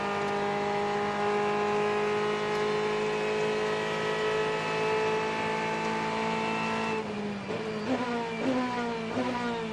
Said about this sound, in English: Let's have a listen to the Ferrari engine down the back stretch.